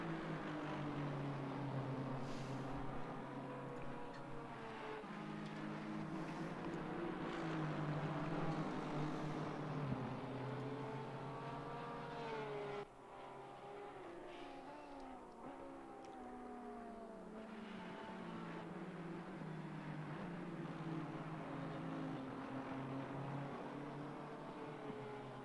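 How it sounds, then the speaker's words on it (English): GT3 race cars in the ACC racing video game at Watkins Glen, a continuous loud engine drone with rising and falling pitch sweeps as the cars shift and accelerate, with several engines layered together. "he tries to pass Tyler Bendis, which I think he gets right here"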